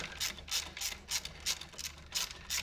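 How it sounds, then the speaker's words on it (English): A ratchet clicks in quick repeated bursts as it tightens bolts on a motorcycle highway bar. There are about eight evenly spaced strokes, close but fairly quiet, with no voices. "now we just torque everything down"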